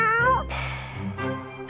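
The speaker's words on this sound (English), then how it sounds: "What cute cats!" Cartoon cats in a Catnap vs Hello Kitty video game give two short, close meows, a rising high-pitched cry followed by a lower, slightly drawn-out mew.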